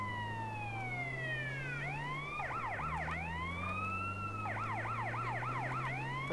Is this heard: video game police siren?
yes